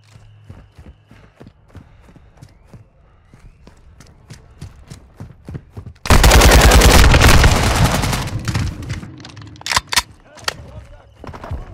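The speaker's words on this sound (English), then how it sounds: "I'm shooting him already" Loud automatic gunfire from Modern Warfare II bursts in around the middle as a dense sustained volley, after a stretch of faint scattered shots and clicks, with a few sharp shots trailing near the end.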